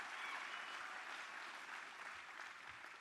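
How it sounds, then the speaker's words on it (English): Sustained applause from a crowd at an outdoor political campaign rally in Eau Claire, Wisconsin, steady dense clapping with cheering mixed in, heard at a moderate distance. "Give James a round of applause."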